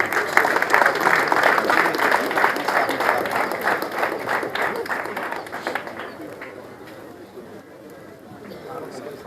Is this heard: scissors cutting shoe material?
no